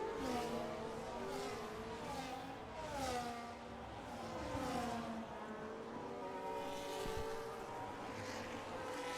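Race cars speed down the straight during a Grand Prix round in Hungary. Several engines roar continuously, their pitch climbing and dropping as they rev and shift, with a faint voice underneath.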